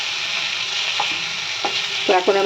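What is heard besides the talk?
bhangor fish being sautéed in oil for curry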